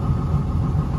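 A Saver Riviera 24 boat engine runs steadily at close range, a low, even rumble with a faint rhythmic pulse, heard alone.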